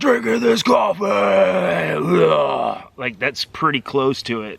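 A voice imitates screaming metal vocals, a sustained gritty, strained growl-scream held for about three seconds, then breaking off into ordinary speech close to the mic.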